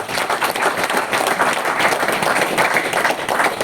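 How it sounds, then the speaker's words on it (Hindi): Dense, steady applause from an audience fills the whole stretch at an insurance-themed talk, with many hands clapping loudly and continuously, a faint murmur of voices mixed in. "आपने नहीं लिया तो आपके लिए जोरदार तालियां होनी चाहिए।"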